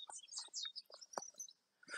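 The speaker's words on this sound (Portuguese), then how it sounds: "Olha o som dos passarinhos." Several small birds chirp and tweet in quick, scattered bursts, faint and outdoors, with a brief pause before more chirping.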